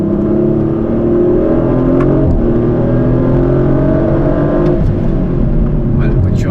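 A 2023 Audi RS5 Competition Plus accelerates hard along a winding road, its engine note climbing through rising harmonics, dipping at a shift and climbing again, heard loud from inside the cabin with talking over it.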